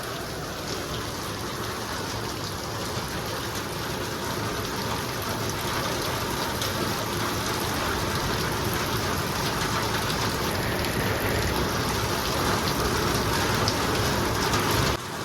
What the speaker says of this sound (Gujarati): તમે જોઈ રહ્યા છો વરસાદ ચાલુ થઈ ગયો છે ફૂલ